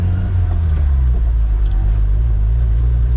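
A lifted Suzuki Samurai with the stock 1.3L engine on 33-inch tires runs at top speed on a highway, a loud steady engine drone and road rumble heard from inside the cabin.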